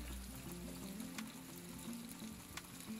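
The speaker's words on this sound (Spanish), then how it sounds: "Vamos a empezar dorando el pollo, en este caso contra muslos." Chicken thighs browning in very hot olive oil, a close, steady crackling sizzle with faint pops, continuous throughout and without speech.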